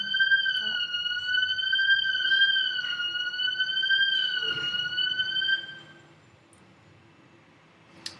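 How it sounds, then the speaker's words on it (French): An electronic alarm rings outdoors in Paris near Beaubourg, a steady wavering multi-tone pulse that carries on loudly for several seconds and then cuts off, leaving quiet street ambience. "Je crois que c'est une alarme"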